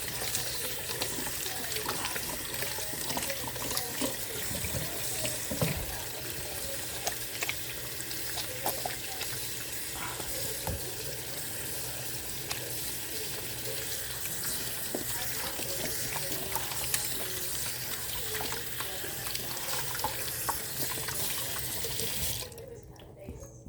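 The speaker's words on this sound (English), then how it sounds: "Wash my hands real quick." Running water from a kitchen sink faucet pours steadily while hands are washed beneath it, a continuous close splashing rush that cuts off abruptly near the end.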